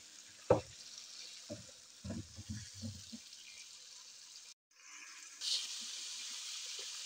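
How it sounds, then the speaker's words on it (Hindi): Chicken pieces fry in oil in a pot with a quiet, faint sizzle. A few soft knocks and stirs come early on, the sound briefly cuts out, and then a steadier hiss resumes. "अब इसमें चिकन को फ्राई करती हूँ अच्छे तरीके से।"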